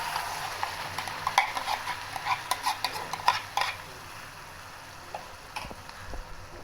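A utensil stirs and scrapes spices inside a cooking pot of paneer butter masala, with light irregular clinks over a quiet sizzling background and no talking.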